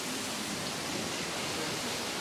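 Rain falling outdoors, a dense, even hiss of drops that holds steady without a break, with no voices heard.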